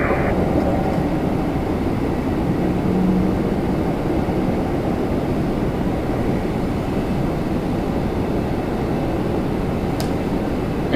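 Air Canada Airbus A321 jet at Toronto Pearson airport, a steady, loud broadband roar of engines holding constant throughout, with no voices.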